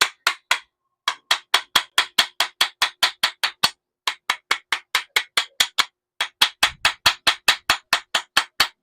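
Hammer striking part of a grass cutter gearbox during repair, a long run of sharp, evenly spaced metallic blows in three bursts with short pauses, close and crisp.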